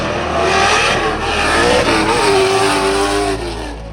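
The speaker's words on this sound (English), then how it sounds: "the sound of a high revving V8" A V8 race car engine revving hard at a motorsport race day, loud and close, its pitch climbing and falling through sustained high-rpm pulls over a few seconds.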